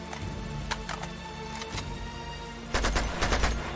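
Gunshots in Uncharted 2: Among Thieves, scattered sharp cracks at first, then a tight volley of several rapid shots near the end, moderately loud over a steady background rumble from the game.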